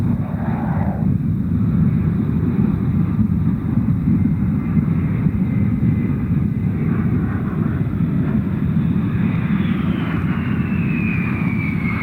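A Northrop B-2 stealth bomber rolls and lifts off on its 1989 first flight in desert heat, a loud continuous roar of jet engines filling the whole stretch, with a faint whine sliding downward near the end.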